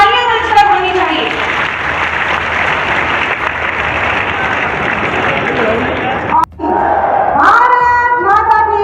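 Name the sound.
audience applause welcoming the chief minister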